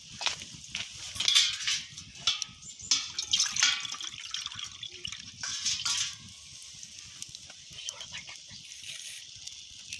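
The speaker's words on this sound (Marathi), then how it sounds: "आता थोडंसं पाणी टाकू द्या मला." Water poured into a pot of homemade potato rice, heard as a short, light splashing trickle with a few drips, fairly close and quiet, fading to a soft background after a few seconds.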